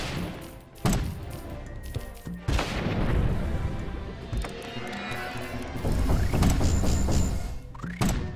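Grenade shots and explosions in the video game Cannon Brawl: repeated loud booms and mechanical clatter over busy game sound effects, with sharp hits near the start and end.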